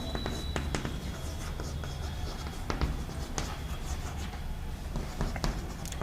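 Chalk or marker writing on a board during a chemistry lesson on isomerism, a run of irregular taps and short scratchy strokes, close and fairly steady, with no talk over it.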